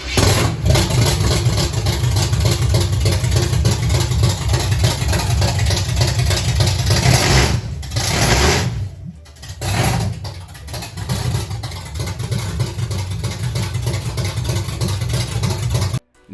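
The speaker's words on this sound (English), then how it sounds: "this is kind of the first time I could actually start the car" A car engine fitted with straight headers and untimed ignition runs loud and close, rumbling and idling steadily with a brief stumble midway before cutting off at the end.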